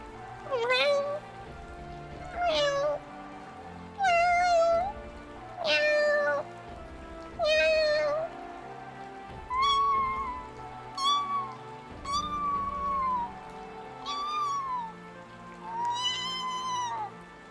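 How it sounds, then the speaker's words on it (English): A kitten meows insistently over and over, about a dozen high, pleading cries in steady succession, close by, with a soft pattering background. "That's a kitten who really wants food."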